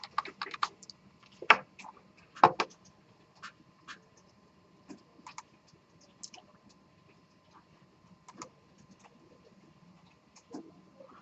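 Keys on a computer keyboard tapped in a lecture room, arriving as scattered quick clicks and short bursts with pauses between, fairly close and moderately loud, with no talking over them.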